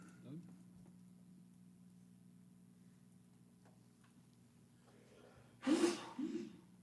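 A single sharp sneeze bursts out near the end in a quiet planning and zoning commission meeting room with a low hum, followed by a smaller second burst.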